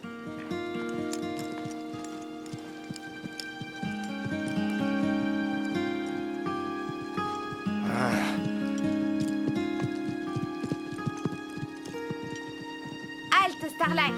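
Horse hooves walking in the animated series Grand Galop, a steady clip-clop that goes on beneath nearly continuous voices, with a brief burst of other noise near the middle and again near the end.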